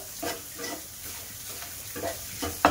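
Soft sizzling as boiled red lentils are stirred into hot oil in a pan, rhythmic stirring scrapes repeating every half second or so, ending in a short louder clatter.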